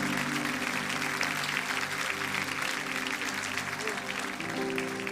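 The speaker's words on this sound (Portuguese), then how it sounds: "Se você crê nessa palavra, aplauda bem forte ao Senhor Jesus" A church congregation claps loudly and continuously during an evening service, sustained applause under a preacher's voice and sustained music.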